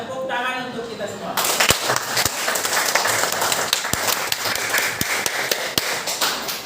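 Students applauding in a classroom, a rhythmic burst of claps and taps breaking out after a teacher's voice, with some chatter mixed in among the sharp individual hits.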